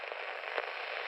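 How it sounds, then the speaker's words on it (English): Crackling radio static fills the space in a dense, unbroken hiss with a few brief louder pops, no voices audible through it. "radio static began to flood through the deck"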